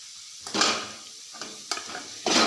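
Chopped onions hit hot oil in a home kitchen pan for potato palya, bursts of sizzling and stirring scrapes coming in short separate bursts, fairly close, with no talk.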